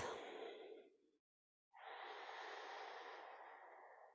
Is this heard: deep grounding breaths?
yes